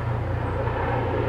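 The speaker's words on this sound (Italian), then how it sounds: "C'è un elicottero." A helicopter flies over an outdoor poolside spot in summer, heard as a steady, even drone of rotor and engine at moderate distance that neither rises nor fades, with no one speaking.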